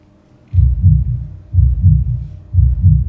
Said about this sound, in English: The sound of my heart beating, throbbing.